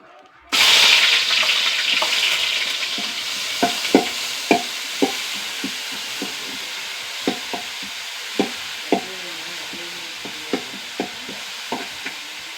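Crushed shallots hit hot oil with a sudden loud, steady sizzle that carries on close and bright, punctuated by regular spoon or ladle taps against the pan as they are stirred.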